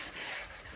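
A short, soft scratchy rubbing stroke of hand sanding over wood filler putty, roughing it up for paint, close and fairly quiet.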